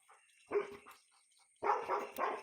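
A dog barks in two short bursts of several loud, close barks, with a quiet gap between them and no talking.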